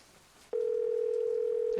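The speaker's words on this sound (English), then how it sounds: "It is just a ringtone in a Nancy Drew game." A single steady electronic tone from a phone in a Nancy Drew video game starts abruptly after a quiet half second and holds loud and unbroken to the end, with no talk.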